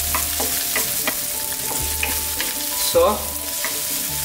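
Garlic sautéing in hot oil for Filipino ginataang tilapia, a continuous sizzle with light stirring taps, close up, and a brief spoken word near the start.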